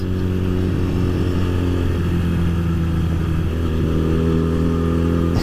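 A Honda CB 125 motorcycle accelerating through the gears on a road, its small engine buzzing loudly and steadily with pitch shifts as gears change, heard up close without speech.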